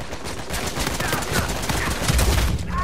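Loud, dense bursts of automatic gunfire in an Uncharted 4 multiplayer match, rattling close and continuous over a short stretch with faint talk beneath.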